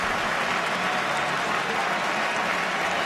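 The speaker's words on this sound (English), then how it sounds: "Huge round of applause for the loose head prop." Rugby stadium crowd at a Six Nations match between Ireland and Wales, applauding a loose-head prop as he leaves the field: a steady, dense wash of distant applause that holds at an even level throughout.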